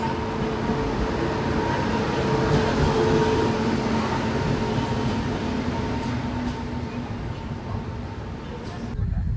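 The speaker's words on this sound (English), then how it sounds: "We are taking a fast train to Chennai." Steady loud rumble and rattle of a fast train to Chennai in India, a continuous roar of wheels on rails heard from inside the carriage, with faint background voices.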